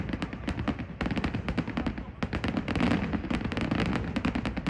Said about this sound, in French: Moi j'ai bien aimé les feux d'artifice dorés,